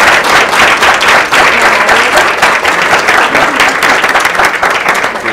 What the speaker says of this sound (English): give our amazing panel a round of applause